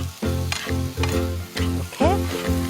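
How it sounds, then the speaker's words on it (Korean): Dried radish strips stir-fry with soy sauce and oligosaccharide syrup in a hot pan, giving a steady sizzle broken by rhythmic scraping strokes of a spatula, close and fairly loud, with no voices. "이렇게 볶아주세요."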